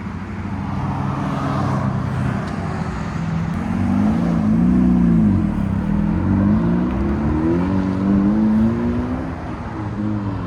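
A 2012 Honda Civic LX 1.8L with a muffler delete and 5-inch tip drives down the road, its steady droning exhaust rising and falling gently with throttle over constant tire and road noise.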